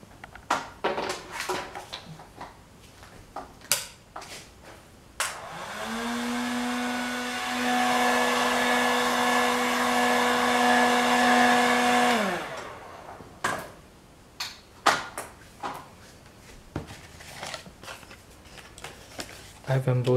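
An embossing heat gun melting clear embossing powder, a steady loud whirring blower hum that runs for about seven seconds in the middle, with tapping and handling noises before and after.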